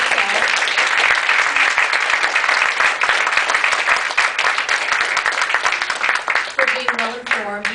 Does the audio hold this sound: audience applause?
yes